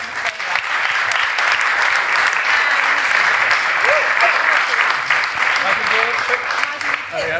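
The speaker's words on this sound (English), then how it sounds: "a round of applause to everybody" Sustained crowd applause at a business awards ceremony in Dorchester and Poundbury, loud and even from start to finish with no break.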